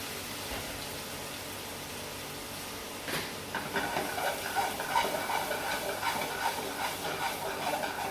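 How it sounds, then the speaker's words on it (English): A soft background hum, then a sudden sizzle as white wine hits a hot pan of prawns, settling into a steady bubbling hiss. "The wine will help to steam and finish the prawns off."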